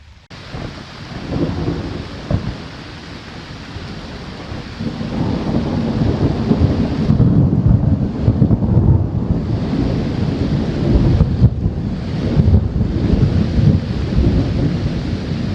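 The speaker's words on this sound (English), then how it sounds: "that thunder and lightning is so loud" A thunderstorm at night on a solo backpacking trip along the Ice Age Trail in Kettle Moraine North, Wisconsin: steady heavy rain with loud, close rolls of thunder that build and rumble for long stretches, with no talking.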